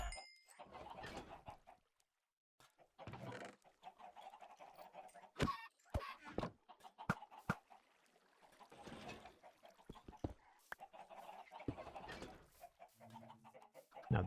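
Chickens in Minecraft give short, clipped clucks in scattered bursts, with sharp clinking hits and pops between them and brief gaps of silence.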